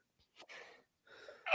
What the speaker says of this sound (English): Coughed so hard my earpiece came out.